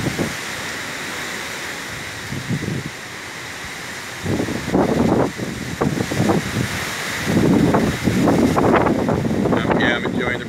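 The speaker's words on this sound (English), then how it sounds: "I can hear the trees 2 blocks down ruffling, so I know when I'm gonna get a good gust." Wind gusts from Hurricane Irma rustling trees outdoors, rising in loud rushing bursts over a steady wind background, with a voice speaking in places.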